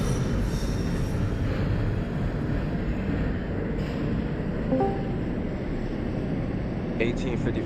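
An R142A subway train in the OpenBve simulator runs with a steady, loud rolling rumble and rail noise throughout, with brief squeals near the end and voices talking over it.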